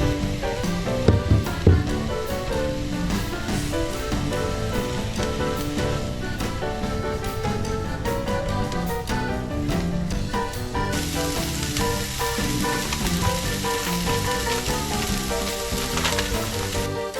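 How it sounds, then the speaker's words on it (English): Peppers and onions frying in hot oil in a large skillet over medium-high heat, a dense continuous sizzle and crackle heard up close for a long stretch, with a few faint clinks and no talking. "Heat about 1 to 2 tablespoons of oil in a large skillet over medium-high heat. Once it's hot, add the peppers and onions and cook until they've softened."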